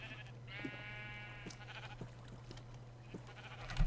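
One long bleat from a sheep in the Minecraft video game rises clearly, followed by scattered soft clicks and taps over a constant low hum, with no talking.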